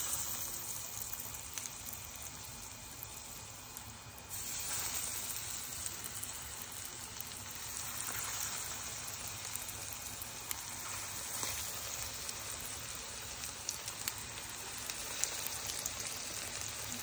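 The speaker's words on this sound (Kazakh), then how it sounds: "Қысып тұрған майымызға дайындап алған котлетімізді саламыз." Potato cutlets fry in hot oil with a steady, quiet, even sizzle throughout, faint and close with no voices.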